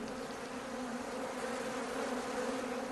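Bees in an opened beehive on a Victorian-era farm hum in a steady, continuous drone that stays close and fairly loud throughout, with no voices over it.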